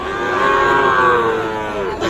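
Sahiwal bull calves at a cattle market, with one long, loud, close moo sustained for about two seconds and no talking.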